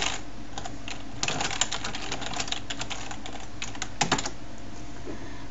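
C++ code is typed on a computer keyboard as rapid close-up clicks. The irregular bursts of keystrokes run over a steady low background hum.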